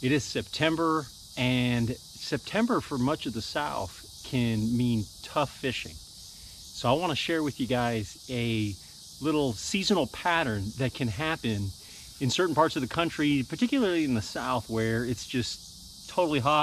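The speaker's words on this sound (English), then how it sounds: "You can hear the cicadas out there in the background." Cicadas buzz outdoors on a hot September day in the American South, a steady high-pitched drone running constantly in the background beneath someone speaking at length.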